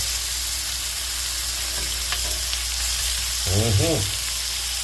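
Pork for a honey garlic dish sizzling in a frying pan, a steady close crackling sizzle with a short burst of voice-like sound near the end.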